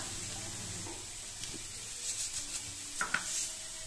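Carrot stir-fry for poriyal is mixed in a pan after salt goes in, giving a soft low sizzle and several light scraping and clinking touches of spoon on pan, faint and close, without talking.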